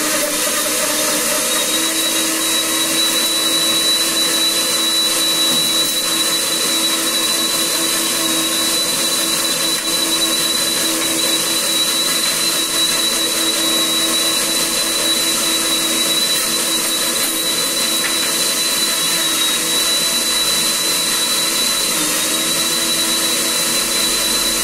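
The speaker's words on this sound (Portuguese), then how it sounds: "Vou bater essa goiaba no liquidificador para me fazer um suco para tomar no almoço." An electric blender runs for a full stretch as it purées guava into juice. It gives a loud, constant whirring roar that stays unchanged from start to finish, with no talk over it.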